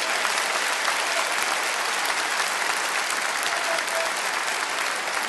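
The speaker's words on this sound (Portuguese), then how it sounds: "E aqui eu peço a vocês uma salva de palmas para a Assembleia, que garantiu a proposta do governo." Crowd at a political address in Paraná, Brazil, applauding the state Assembly: a thick, continuous wash of clapping from many people, loud and even throughout without any voices rising above it.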